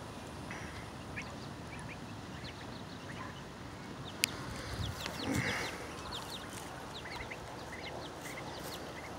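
Backyard poultry flock with ducks nearby, steady low clucking and scattered bird calls outdoors, with a brief louder flurry of calls midway and no talk.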